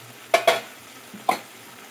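Ridge gourd with poppy seed paste stirred in a pan, a few brief scraping strokes over a faint sizzle, with quiet gaps between them.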